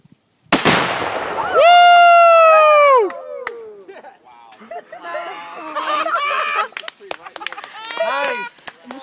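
A single sharp rifle shot detonates a Tannerite explosive target outdoors with a loud, abrupt blast. A ringing tone and voices follow as people react.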